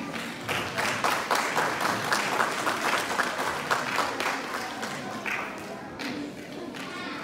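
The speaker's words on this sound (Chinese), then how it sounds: "请他们给我们再一次最热烈的掌声" At a school graduation ceremony, an audience claps steadily and continuously, a dense full-room applause with a voice over it near the end.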